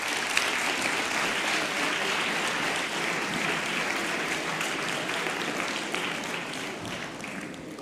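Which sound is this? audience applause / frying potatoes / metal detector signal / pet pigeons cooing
audience applause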